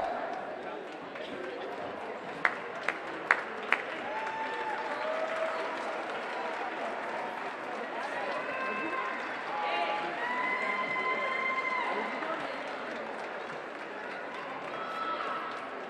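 A crowd at a state high school hockey tournament applauds the Class 1A runner-up Homestead Spartans with steady, continuous clapping and cheering that holds throughout, a few sharp claps near the start and an announcer's voice running over it.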